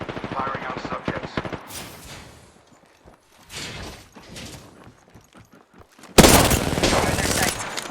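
Gunfire from the video game Apex Legends, with automatic bursts in short volleys and a loud, dense burst of shots near the end, mixed with in-game voice callouts.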